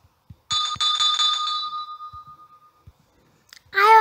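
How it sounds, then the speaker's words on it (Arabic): A house doorbell sounds once, a clear electronic chime tone ringing and slowly fading over about two seconds, framed by a few soft knocks, before a voice begins speaking at the very end. "طيب انا هرن الجرس"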